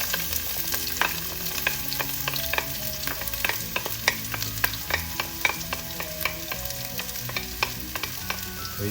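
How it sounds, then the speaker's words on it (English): Garlic and onions sauté over medium-high heat in a pan for a pig's heart stew, giving a steady close sizzle. Quick clicking stirs of a utensil against the pan keep coming, and no one speaks. "let's start sauteing. Start with our garlic"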